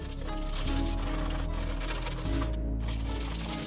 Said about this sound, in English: Got this to scuff it up.